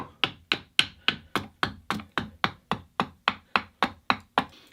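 Sharp wooden knocks from hitting a workpiece while carving a spoon, about sixteen evenly spaced strikes in a steady rhythm, close and crisp with short ringing tails, no talk.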